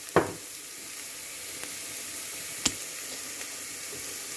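Mussels fry with turmeric, garlic, black pepper and salt in a pan, giving a steady soft sizzle while a utensil stirs, with a couple of sharp scraping clicks against the pan.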